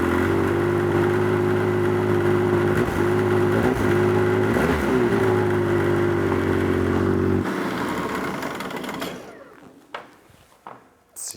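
A Yamaha snowmobile engine fitted with an exhaust fix kit idles steadily and loudly up close for about seven seconds, then cuts out and fades, leaving faint handling noises.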